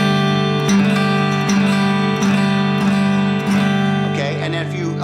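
An acoustic guitar strums a suspended 2 chord about six times in a steady rhythm, each strum ringing on close up before the next, with no talking.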